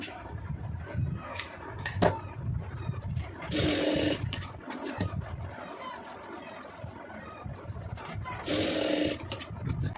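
Sewing machine stitching the lining of a star-neck blouse, two loud buzzing runs of rapid needle strokes separated by quieter handling, clicks and rustle.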